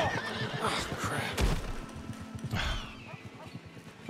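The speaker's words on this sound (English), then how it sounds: "All these horses keep galloping away." A horse in the video game Red Dead Redemption 2 whinnies, with a second neigh a moment later, amid rustling, thuds and brief speech in the background.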